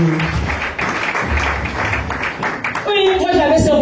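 A Pentecostal church congregation claps and applauds in acclaim, a dense wash of clapping and voices that swells near the end as sustained singing or shouting rises over it.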